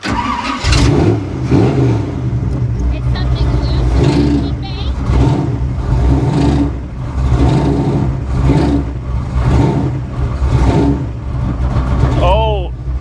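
A car engine runs with a repeated metallic knocking or hitting rattle, pulsing in a steady rhythm. It is loud and close, and voices talk over it at times.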